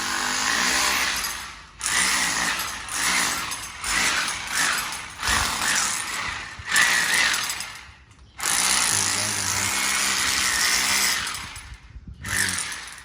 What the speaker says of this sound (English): he's drilling a hole there for the skimmer